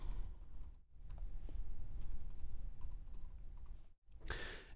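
Keys are typed on a computer keyboard to name a document, a steady run of soft close clicks with two brief silent gaps, no talk.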